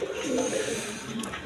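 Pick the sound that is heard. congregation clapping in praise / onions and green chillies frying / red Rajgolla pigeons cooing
red Rajgolla pigeons cooing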